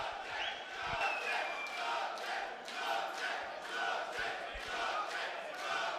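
A fight-night crowd at an FFC 9 bout chants a fighter's name in a steady rhythmic roar, rising and falling in repeated waves, loud and reverberant as if heard across a venue.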